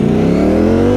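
Ducati Streetfighter V4 motorcycle engine under way, a loud continuous mid-pitched roar with a steadily rising rev tone, close and constant with no talk.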